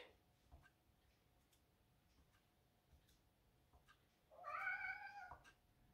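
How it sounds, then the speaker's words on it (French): A house cat lets out a single drawn-out meow, fairly close and clear, near the end of an otherwise quiet stretch with faint background ticks. "Oui, il s'appelle Pepsi, mon chat."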